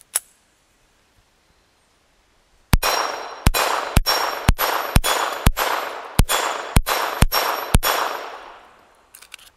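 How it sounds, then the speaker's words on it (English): Eleven sharp pistol shots from a Smith & Wesson Model 41 Performance Center fire in a steady string with short, slightly uneven gaps. A single isolated crack comes first, and a long pause separates it from the rest. Each shot is loud and close, with a brief ringing tail. "In my hands is a Smith & Wesson Model 41 Performance Center. Let me shoot it a few times"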